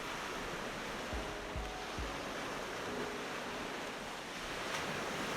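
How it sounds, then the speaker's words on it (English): Ocean surf rolls and breaks steadily on a beach at Ventura, California, a continuous wash of hissing, foaming water with a few low thuds of waves landing, heard alone at a moderate distance. "A rogue wave overtopped the beach with almost no warning."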